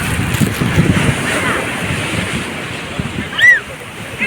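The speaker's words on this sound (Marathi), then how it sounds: "तुम्हाला दिसत असेल ह्या लाटा" Sea waves wash in a steady roar close by, mixed with wind noise, and a faint high whistle near the end.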